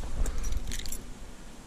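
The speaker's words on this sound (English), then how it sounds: "Oh, car keys." Car keys jangle briefly in short metallic rattles at close range before fading, heard outdoors during an evening of fly fishing for wild brown trout in Devon.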